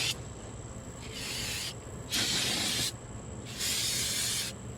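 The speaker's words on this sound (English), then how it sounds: "So we're just going to kind of spray everything down" Brake parts cleaner sprayed onto the brakes of a 2015 Chevrolet Silverado in several hissing bursts of about a second each, separated by short pauses, close and loud.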